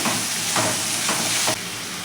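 Onion, masala paste and tomato fry in a pan while being stirred, producing a loud hissing sizzle with rhythmic swells from the stirring strokes, which drops slightly near the end.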